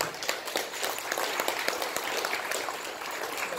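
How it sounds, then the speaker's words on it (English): A fatherhood conference audience gives a round of applause for a county councilwoman, a thick, sustained wash of many hands clapping at close range with no pauses. "let's please, again, give a round of applause to Councilwoman Yvonne Conwell."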